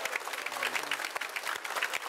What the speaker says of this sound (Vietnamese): Anh chị em một tràng pháo tay rất là lớn để chúc mừng cho các em hôm nay.